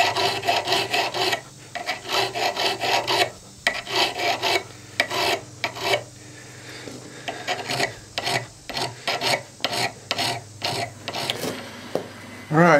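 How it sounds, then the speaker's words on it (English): A metal file rasps a bevel into an adze made from a rock hammer, rhythmic loud strokes in quick bursts with brief pauses between runs, close up and with no talking. "That's what we're filing in now before we heat treat it"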